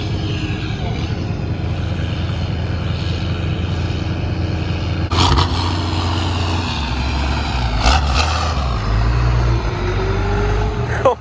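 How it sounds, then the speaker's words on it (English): A military truck drives past with a loud, constant low engine drone and rumble, surging briefly with a couple of sharp clunks and rattles. "It's a goddamn military truck."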